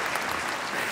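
Audience applause fills a theatre during a Christmas comedy show, a dense, steady wash of clapping lasting about a second with no voices on top.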